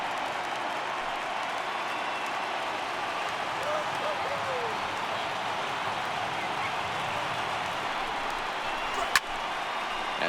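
A big-league ballpark crowd of more than 36,000 in MLB The Show 18 roars steadily, with one sharp crack near the end.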